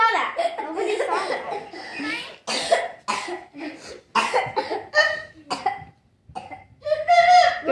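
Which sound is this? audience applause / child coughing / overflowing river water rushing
child coughing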